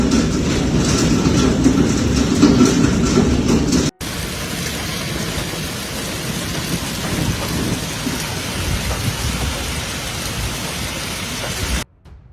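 A hailstorm with rain and thunder hits Guffey, Colorado, making a dense, loud, continuous roar of rain and rumble that shifts abruptly partway through and cuts off at the end.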